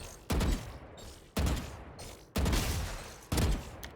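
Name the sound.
gunfire in the video game Valorant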